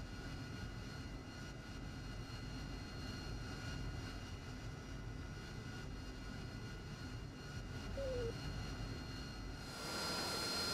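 An AV-8B Harrier jet idles and taxis in the combat flight sim DCS World, its engine a steady, low, continuous roar and whine that holds level throughout, rising slightly at the very end.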